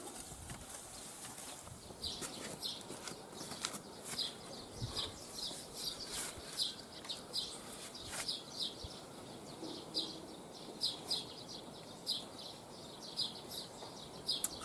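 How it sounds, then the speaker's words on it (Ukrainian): Birds chirp and sing repeatedly outdoors in a rural vegetable garden, bright short calls recurring through the clip over a steady low background, with a few brief clacking sounds. "пташки співають"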